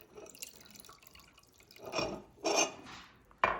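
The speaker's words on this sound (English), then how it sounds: "now to this, I'm just going to add about half a cup or so of water" Water is poured into sugar syrup, heard as a few quiet, close splashing bursts separated by short pauses, with no talking.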